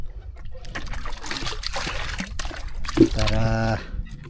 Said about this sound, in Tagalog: Lagyan natin kaunting tubig